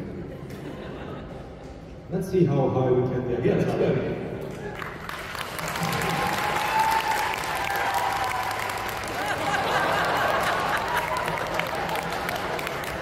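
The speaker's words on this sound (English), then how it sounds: "rounds of applause for the new record beginning." Applause from a convention audience breaks out and swells into sustained clapping that continues steadily, with a few voices speaking briefly before it starts.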